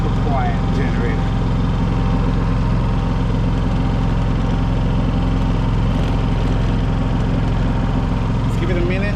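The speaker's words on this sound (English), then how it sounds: "super quiet generator" Yamaha EF4500iSE inverter generator running, a steady low even hum with a fixed droning tone, constant and unbroken throughout.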